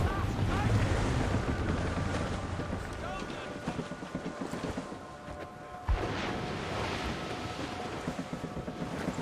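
Howling wind and heavy, rough sea from a squall lash a sailing ship in a played scene, a steady roar that fills the whole stretch, with voices faintly present under it.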